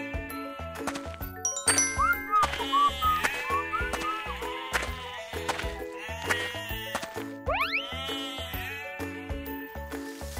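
Sheep bleat on a grassy hillside amid a busy musical backdrop with jingling bell-like tones, the calls rising and falling over a steady, loud bed of sound.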